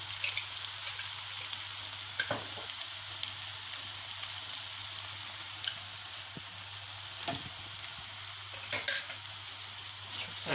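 Minced meat filling with green pepper, chili flakes and tomato paste fries in a pan for börek with a steady, soft sizzle. It is stirred now and then, giving occasional faint scraping taps.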